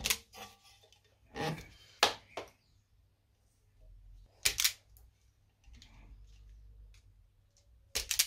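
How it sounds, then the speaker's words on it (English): Electrical cable being stripped back while a new socket is wired onto a ring or radial circuit: a few sharp, close clicks and snips in short bursts, separated by near silence. "strip your wire back."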